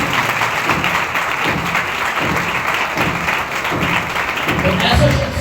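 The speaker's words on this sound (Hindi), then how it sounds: "आए जोरदार तालियां बजाएं खुदा के लिए।" A church congregation at a Sunday service applauds loudly and continuously, a thick, steady crowd clapping that fills the room and carries on under faint background voices to the end.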